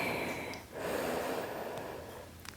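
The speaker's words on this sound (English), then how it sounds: "Take a breath in" A deep inhale during a morning beginners' yoga session, a soft airy breath drawn in near the microphone, rising after a brief dip and fading out quietly.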